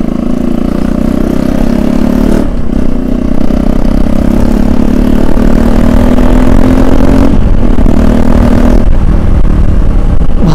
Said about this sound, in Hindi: तो भाई का कोई बाइक आने वाला है